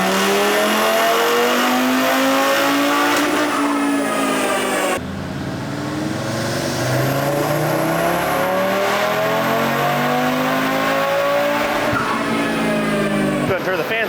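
A tuned car on an all-wheel-drive dyno running JB4 Map 6 on E50 ethanol blend with charge pipe, intake and upgraded intercooler screams through a long loud wide-open pull, rising harmonics, a brief shift lull, then climbing again near and sustained.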